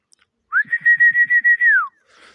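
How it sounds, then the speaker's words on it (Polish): A person whistles one long, steady, high note to call racing pigeons, bending up at the start and down at the end, loud and close, with a faint sound afterward. "Bo gwizdamy, nie?"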